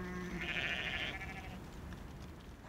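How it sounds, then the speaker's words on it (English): Sheep bleat on a farm at evening feeding time, one clear, drawn-out bleat rising early and fading within a second or so, heard fairly close over a low rumbling background. "almost the last job to do is feed the sheep"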